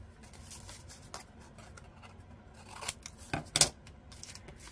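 Scissors snipping away excess paper while making lacy book-page pockets, a few quiet cuts and rustles that build to two or three sharper snips near the end, with no talk.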